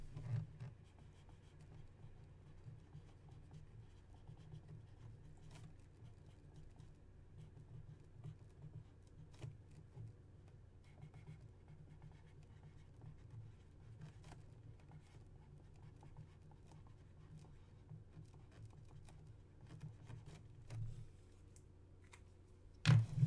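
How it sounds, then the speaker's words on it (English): Pen scratching on paper while notes are jotted during a pack break of 2016 Leaf Auto mini helmets, with steady, faint, close strokes over a low background hum and no talk. "Let me write this down."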